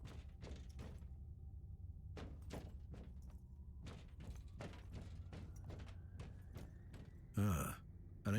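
A door opens in Warhammer 40K: Inquisitor – Martyr with a loud, brief mechanical whoosh near the end, after a run of scattered dull thuds over a low rumbling ambience.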